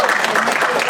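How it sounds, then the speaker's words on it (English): A college audience at a magic talk gives brief, continuous applause, a dense wash of clapping in the room. "Give them a warm round of applause."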